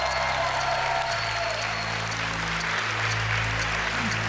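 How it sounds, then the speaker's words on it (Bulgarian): Sustained applause from a crowd, steady dense clapping throughout with a low hum underneath. "Браво, аплодисменти за Иван!"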